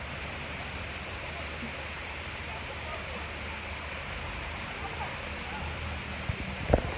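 Continuous gentle splashing of water flowing in a garden water feature, an even rushing wash close by with no talk, a couple of brief knocks near the end.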